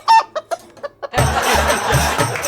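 Hen clucking as if laying an egg, a series of sharp, rhythmic clucks heard close. A broad, noisy rushing sound then takes over.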